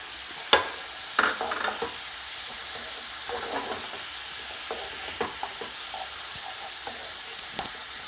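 Blended tomato puree goes into chicken drumsticks frying in a pan. A sizzling hiss runs throughout, broken by sharp scraping stirs and clatters, close and fairly loud.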